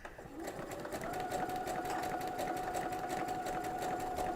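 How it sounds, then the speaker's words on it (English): A sewing machine with a fringe looper foot runs slowly on a very short stitch length, a steady close mechanical whir with rapid regular needle ticks and a continuous hum throughout. "So it goes kind of slow because the stitch length is so short."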